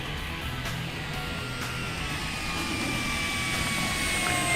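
An FMS F4U Corsair 1700mm RC model airplane with flaps and landing gear down flies a touch and go, its electric motor a steady, fairly distant whine over constant wind and outdoor noise.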